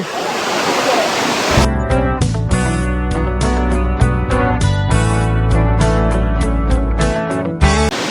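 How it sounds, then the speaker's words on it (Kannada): Soormane Falls waterfall rushes with steady broadband roar for the opening moments, then loud music with a strong beat plays over it and largely covers the falling water. "ಈ ರೇಂಜ್ಗೆ ಅಷ್ಟು ರಭಸವಾಗಿ ನೀರು ಬಂದು ಬೀಳ್ತಾ ಇರೋದು"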